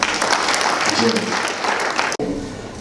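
Applause from a crowd at a youth employment programme graduation ceremony in Kisumu, dense continuous clapping that stops abruptly near the end, with voices mixed in.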